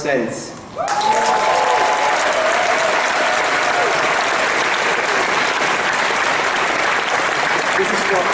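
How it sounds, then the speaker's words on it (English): An audience breaks into loud, sustained applause for fursuiters who collected charity donations, starting abruptly after a moment of talk and holding steady as a dense crowd roar of clapping. "This applause is for all the fursuiters that ran out and donated, collected for charity"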